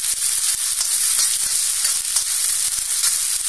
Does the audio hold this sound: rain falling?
no